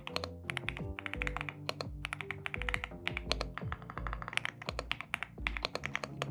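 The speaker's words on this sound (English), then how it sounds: "I wanted a creamy sound in my keyboards from a long time" Rapid typing on a creamy-sounding mechanical keyboard, a dense, even patter of soft close keystrokes with occasional heavier thocks, played alone over faint background music.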